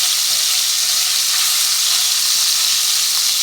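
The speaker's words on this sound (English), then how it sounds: "I'm turning them over. We got that little crisp that I'm looking for on my sausages." Sausages frying and crisping in a pan, a loud, dense, continuous sizzle and hiss close by with no talk over it.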